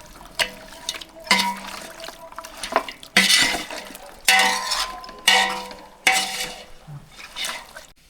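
Ingredients being mixed by hand with turmeric and salt for a mutton dish: about seven separate wet, squelchy stirring strokes at an uneven rhythm, close up, with no talking.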